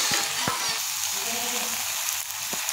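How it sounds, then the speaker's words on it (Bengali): Meat sautéing in oil in a pan over medium heat, a steady close sizzle with a few sharp spatula scrapes and knocks as it is stirred, no voices. "এবার আমরা ভালো করে খুন্তির সাহায্যে এগুলোকে কষিয়ে নেব।"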